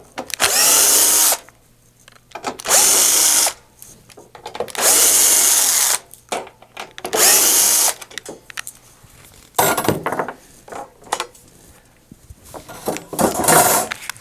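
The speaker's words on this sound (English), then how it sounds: "using a T20 Torx bit we'll remove the front grille" Cordless power driver fitted with a T20 Torx bit backing screws out of the front grille of a Phoenix DryMAX dehumidifier: several loud whirring bursts of one to two seconds each, separated by pauses with small clicks and handling noises.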